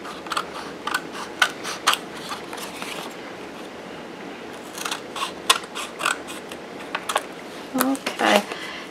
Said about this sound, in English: So I just trimmed them all off like so.